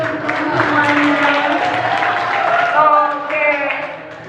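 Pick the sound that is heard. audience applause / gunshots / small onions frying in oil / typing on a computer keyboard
audience applause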